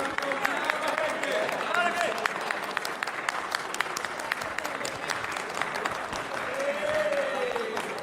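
Sustained applause fills the Brazilian Chamber of Deputies during a session: dense, steady clapping from many hands throughout, with voices and crowd murmur mixed underneath.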